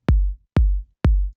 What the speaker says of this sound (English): And the kick sounds like this